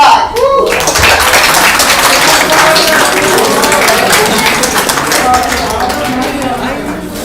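Loud audience applause at a live English club event, dense continuous clapping from a crowd lasting several seconds and tapering slightly toward the end.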